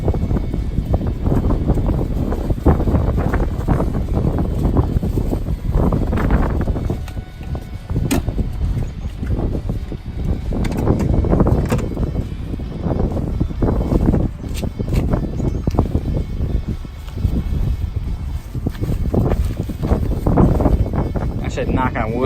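Strong wind gusts roar and buffet the microphone outdoors beside a truck and camper on a country road trip, a loud, steady low rush with voices partly heard beneath it.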